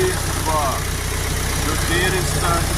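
Dongfeng 404 G2 tractor engine idling close by, a steady low mechanical throb with a regular pulse, while a voice talks over it.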